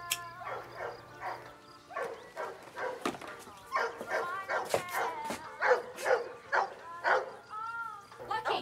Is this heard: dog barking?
yes